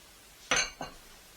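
Two quick clinks of a utensil against a bowl while mixing pizza dough with flour, a sharp first knock followed by a softer second one, close and fairly quiet with nothing else around them.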